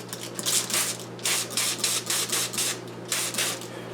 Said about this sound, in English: all you do is spray it with water